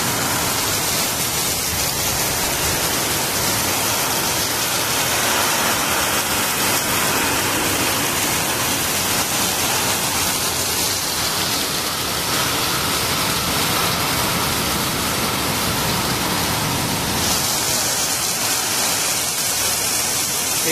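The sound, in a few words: heavy rain with strong wind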